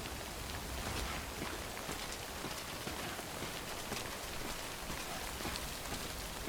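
Rain falls steadily on the ground in the video game Death Stranding, a close, even hiss of drops with soft patters, continuing unbroken and without speech.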